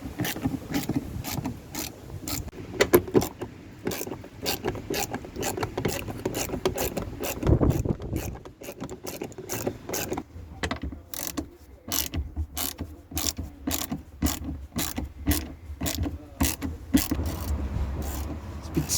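Ratchet clicking steadily as it loosens a stiff seat bolt on an MK3 Ford Fiesta, a close run of sharp rapid clicks with brief pauses and a heavier knock partway through.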